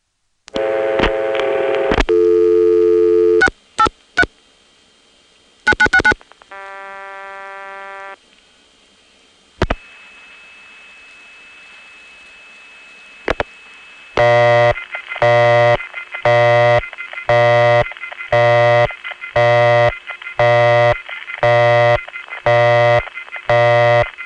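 Old crossbar telephone exchange tones on a long-distance trunk call: bursts of multi-frequency signaling and a steady tone, then a rapid regular train of beeping pulses, loud and clear.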